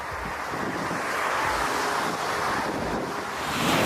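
Roaring, buffeting wind gusts batter the microphone continuously, swelling louder toward the end, with a broad rushing noise and low rumbling thumps.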